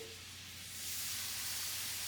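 Butter heating in a pot for a Cajun smothered chicken gives off a soft, steady sizzle that swells slightly partway through, faint and close with no talking.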